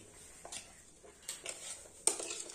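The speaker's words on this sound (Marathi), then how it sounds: "पहिले हलवून घेतो थोडेसे पोहे" A spoon scrapes and clinks in a pan as poha is stirred, with a few light, separate strokes at close range in a quiet kitchen.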